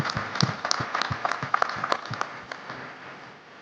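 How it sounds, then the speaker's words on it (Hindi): Audience at a film trailer launch event applauding an actress, scattered, uneven claps with a few sharper ones standing out, tapering off toward the end. "जोरदार तालियां हो जाएं प्लीज।"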